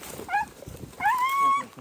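A hunting dog out on a hunt gives two short, high whimpering yelps, the second longer and rising, close by over faint background noise.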